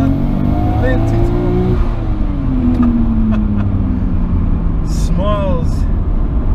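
A Nissan Skyline R34 GT-R V-spec II Nür with a NISMO factory upgrade pulls hard under acceleration, its loud engine note climbing steadily through the revs from inside the cabin, with a voice briefly heard over it.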